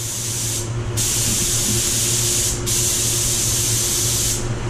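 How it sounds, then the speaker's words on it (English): A steady, loud hiss of a spray gun at 33 PSI laying down clear coat on a Range Rover Velar, continuous throughout with brief pauses in the highest hiss, no voices. "I'm spraying at 33 PSI, and I'm using the HD Clear."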